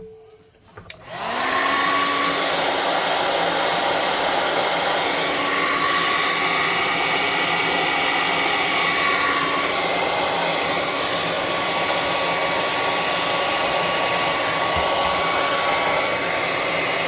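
A hair dryer switches on with a click and then runs at a loud, steady whir for a long stretch, drying paint on a cardboard craft piece, with no talking.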